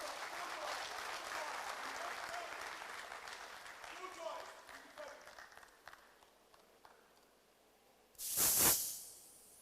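Applause from a crowd fills the first seconds, then thins and fades into scattered claps; a brief loud hissy burst follows near the end.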